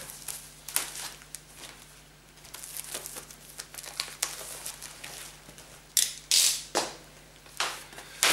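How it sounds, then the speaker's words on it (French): Plastic shrink-wrap being peeled off a cardboard CD box set, soft crinkling and crackling with a few sharper tearing rustles toward the end, close and quiet. "on va carrément enlever le plastique"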